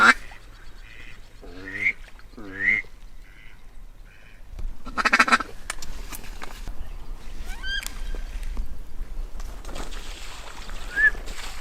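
Virginia ducks quacking on the water in early dawn light, a series of loud nasal calls in short bursts early on, then scattered fainter calls and a distant honk over steady outdoor ambience.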